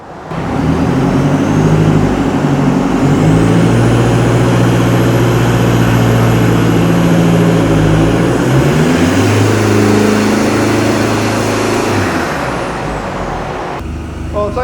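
A taxi engine with 300,000 miles runs under heavy load on a dynamometer with a fan, its drone rising in pitch, holding steady, then falling away, with a high whine above it.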